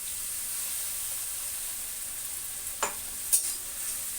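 Ground paste of ginger, garlic and green chilli fries in a pan with a low, even hiss, then two short scraping knocks from the stirring spoon near the end.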